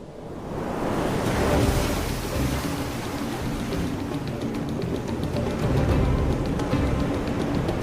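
Sea waves crash against the shore and break on rocks in a dense, continuous roar of surf, loud and close, with rushing spray and no voices.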